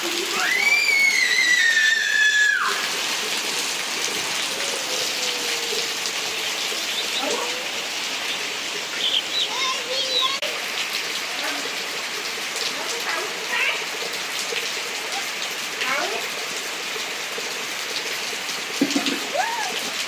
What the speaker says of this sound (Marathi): कसला पाऊस पडतोय बघा जोरदार